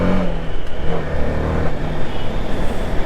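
A motorcycle engine starts from cold and revs, a close, loud, rough mid-pitched drone with uneven pulsing throttle swells.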